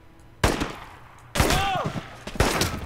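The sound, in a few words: gunfire shooting an enemy in video game Enemy Front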